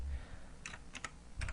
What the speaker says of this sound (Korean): 한 손으로 타이핑 하려니까 힘들어요.